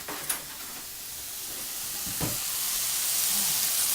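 Ham browning in a pan, a soft, steady sizzle that slowly grows, with a couple of faint clicks near the start.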